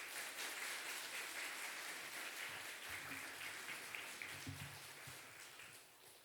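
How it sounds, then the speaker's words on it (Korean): A church congregation at a Sunday service claps to welcome the elder pastor, a faint, distant, steady wash of many hands that slowly tapers off toward the end. "우리 목사님 나오실 때 우리 환영의 박수, 뜨거운 박수 한번 부탁드리겠습니다"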